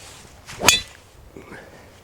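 A golf driver strikes a ball off the tee into the wind, giving one sharp, loud crack with a brief whoosh. Faint background follows and no one speaks.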